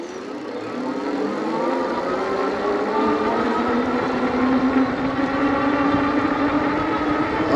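Espin Nesta 48V folding fat-tire step-through eBike pulling away on throttle alone, its rising motor whine climbing in pitch as speed builds, heard close with wind rush, and no talking.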